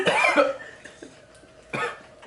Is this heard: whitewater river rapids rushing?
no